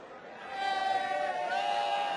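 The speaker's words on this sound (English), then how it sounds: "Crowd enjoying themselves here in the City West" A darts arena crowd at a PDC World Grand Prix first-round match makes a broad roar that swells after a quieter start and holds loud, with a prominent sustained tone over it.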